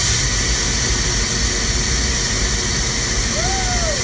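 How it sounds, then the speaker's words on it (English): A vintage RV engine running with its engine cover removed: a loud, steady roar that fills the clip, with a brief rising and falling whine near the end. "Super loud because the engine cover's not on, but now it's up and running."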